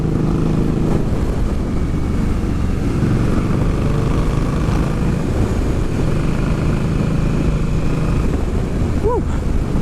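An Indian Scout motorcycle rides along an open road, its engine droning steadily and loudly with heavy wind rush throughout, a brief rising whine near the end.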